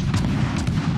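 An enemy warship fires its guns in a naval combat video game, heard as dull booming gunfire bursts over a dense, constant low rumble of battle noise.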